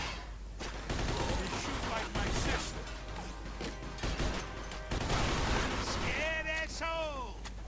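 Rapid gunfire in the Mafia 2 video game, a dense barrage of loud close shots over most of the stretch, with a brief tonal game sound near the end.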